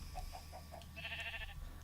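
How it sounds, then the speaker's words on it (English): Sheep bleating in Minecraft, a few short faint cries followed by a longer wavering bleat, quiet against a low background hum. "These sheep are like, what's going on here? Making all that racket."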